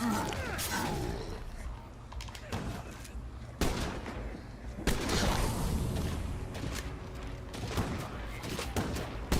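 Repeated gunfire in the video game State of Decay 2, several heavy shots spaced a beat apart over dense, noisy battle ambience, each blast ringing out loudly.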